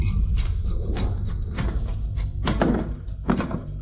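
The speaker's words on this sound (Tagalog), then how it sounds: "Buwagin ang pinto." Heavy thuds against a door as it is forced and broken down, several loud blows landing irregularly over a low rumbling background.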